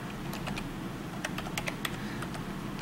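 Someone types a phone number on a computer keyboard, a run of crisp, close key clicks in irregular bursts over a quiet room hum, with no talking.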